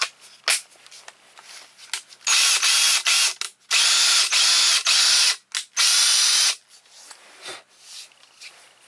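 Ryobi cordless drill revving in several bursts, loud and close, with short pauses and brief clicks between runs.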